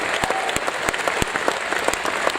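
An audience at a private Disneyland Paris evening event applauds artists with dense, steady clapping and a few sharper individual claps standing out near the front.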